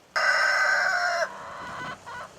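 Chickens in a backyard coop that survived a wildfire, some injured, give a loud, close burst of crowing and clucking that cuts off abruptly, followed by quieter clucks and rustling.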